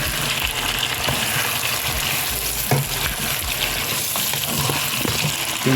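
Chicken gizzards fry in a pan with a loud, continuous sizzle and occasional stirring scrapes, as water is added to the hot pan nearby. No one speaks.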